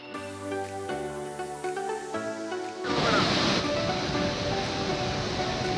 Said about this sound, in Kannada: ರೌದ್ರ ರೂಪ ತಾಳಿರುವ ನದಿ ಜಲಧಾರೆಗಳು.